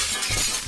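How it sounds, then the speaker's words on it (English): Glass shattering in the Garry's Mod video game during a hide-and-seek round, a single short crash with bright scattering fragments, fairly faint and heard alone without talk. "I just heard smashing."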